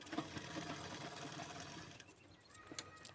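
Sewing machine running steadily while stitching a blouse lining, a continuous close whirring through most of the stretch, then slowing to a few brief bursts near the end.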